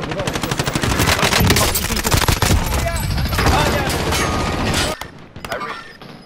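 Rapid automatic gunfire in the Warzone video game, loud dense bursts that run for several seconds before stopping abruptly, with a few scattered shots after and French-speaking players talking underneath.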